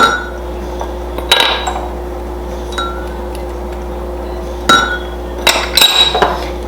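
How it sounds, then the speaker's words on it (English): Hawaiian chicken marinade ingredients go into a bowl with a few sharp clinks and knocks of containers and utensils against it, scattered bursts over a quiet kitchen hum. "So I'm just going to put everything in here, making our little marinade."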